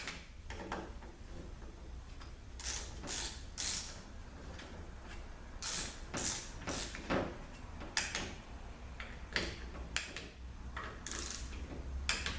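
A torque wrench clicks and ratchets in short bursts while bolts on a ZF6HP19 transmission mechatronic unit are tightened, with quiet gaps between groups of sharp mechanical ticks.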